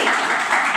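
A church congregation at a Sunday evening service claps loudly in praise: a close, bright, continuous patter of many hands with a few small swells, filling the short moment without any speech.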